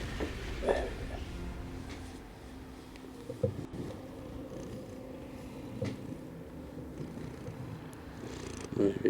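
A cat named Dodger, just awake from a nap, purrs softly and steadily close by, with a few faint knocks and rustles.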